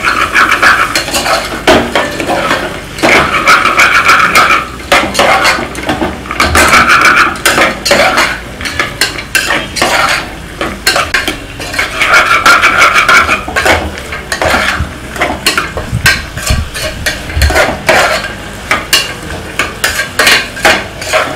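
A spoon repeatedly scrapes and clatters in a pan while carrots, beans, sprouted grains, green chillies and coriander fry for vegetable pulao, with a soft sizzle under the rhythmic stirring.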